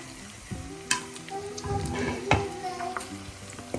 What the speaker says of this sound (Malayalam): എല്ലാം കൂടെ നന്നായി ഒന്ന് വഴറ്റാം